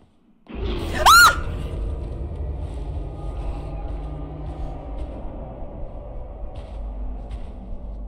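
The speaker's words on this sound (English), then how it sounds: "I'm so sorry for how loud that scream was." A single sharp, high startled scream bursts out near the start of the folk horror game Mundaun, loud and brief, then gives way to a low steady rumble of ambient game sound.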